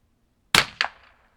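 A single sharp shot from a pistol firing .22LR Aguila pistol match ammunition, close and loud, followed about a quarter second later by a second, weaker crack or echo, then a short fading tail.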